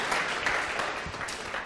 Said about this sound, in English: Give a round of applause to Mr. Chia for his sharing.